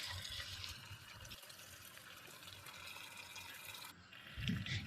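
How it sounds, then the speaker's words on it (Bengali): Water poured into a pan of frying chicken curry, a steady splashing, rushing pour with broad hiss that runs for several seconds and ends with a brief thump. "এবার আমি একটুকুনি জল দিয়ে নেব"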